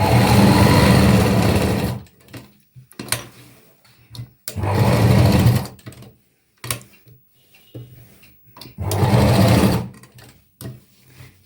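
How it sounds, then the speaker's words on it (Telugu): Sewing machine stitching elastic onto the layered fabric of a kids' lehenga, running in three loud bursts of about two seconds each with quiet handling noises in the pauses. "ఎండింగ్లో కూడా ఇక్కడి నుంచి మనం ఎలాస్టిక్ స్టిచ్ చేసుకుంటాం."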